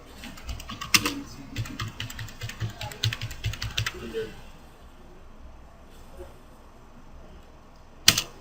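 Computer keyboard typing during a NAT and PAT network configuration lab: a quick run of close keystrokes, then a lull, then a single sharp key press like Enter, with a voice faintly underneath.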